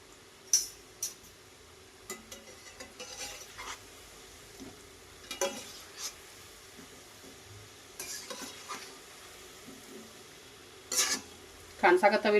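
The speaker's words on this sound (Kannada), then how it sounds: "ಚೆನ್ನಾಗಿ ಮೀಡಿಯಮ್ ಫ್ಲೇಮ್ ಒಳಗೆ ಹೊಂಬನ್ನ ಅಥವಾ ಗರಿ ಗರಿ ಆಗುವವರೆಗೇನು ಫ್ರೈ ಮಾಡ್ಕೊಳ್ರಿ" Shankarpali frying in oil on a medium flame gives a quiet, steady sizzle, broken by soft clinks and scrapes of stirring and a few sharper crackles.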